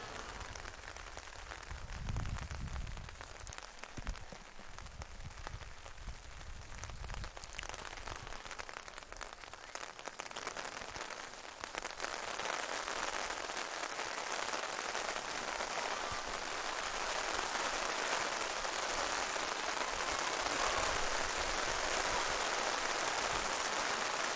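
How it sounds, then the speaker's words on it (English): Heavy rain comes down hard at an outdoor softball game, a dense steady hiss of drops across the field that swells slightly louder over time, with no clear talk over it. "With the rain coming down hard"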